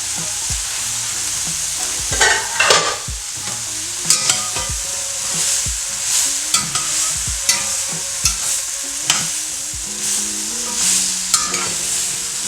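Green beans sizzle steadily in a pan over medium heat while a utensil stirs them, with scrapes and clacks against the pan recurring irregularly over the frying.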